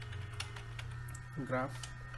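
Python code being typed on a computer keyboard, with light, rapid keystroke clicks in an uneven rhythm, close up and fairly faint beneath a steady low hum, and a brief voice cutting in near the end.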